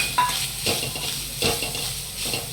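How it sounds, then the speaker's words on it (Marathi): Grated coconut roasting in ghee in a pan with dry fruits for modak filling, steady close sizzling under irregular scraping stirs of a spoon against the pan, with no voices. "हे पण आपल्याला तुपात भाजून घ्यायचे आहे आता फ्रुट्स भाजले गेले आता आपण खोबरं टाकून घेऊया"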